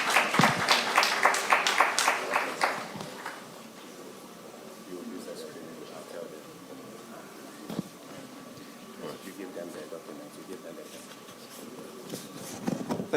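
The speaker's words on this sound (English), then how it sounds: "Let's keep clapping, please." Lecture and awards ceremony audience applauds loudly for a few seconds, then the clapping dies down into scattered claps and murmurs under a speaker's voice.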